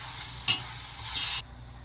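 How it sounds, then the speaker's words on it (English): Diced onions sizzle in hot oil with curry leaves, a steady close frying hiss broken by a quick stir and scrape of the pan, with no voices. "Add some curry leaves. Fry till golden brown."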